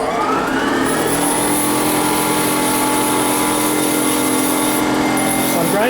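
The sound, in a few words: grinding wheel sharpening a small twist drill bit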